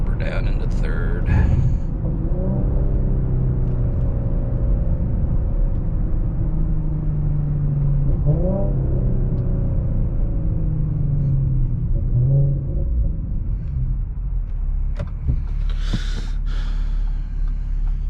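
An Audi SQ5 with AWE downpipes and a touring catback exhaust, a steady, close engine rumble through the cabin with the pitch rising and falling as gears shift, and a voice talking over it.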